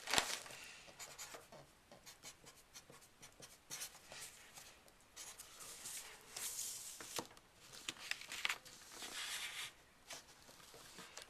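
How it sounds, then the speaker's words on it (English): Pen writing on paper while working a truss problem: steady scratchy strokes with short pauses and rhythmic bursts, close and fairly quiet, with no talking. "So let me just write that down real quick."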